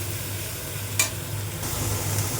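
Freshwater snails (googli) frying in a pan with onion are stirred, a continuous close sizzle broken by one sharp scrape of the spoon, with no talking.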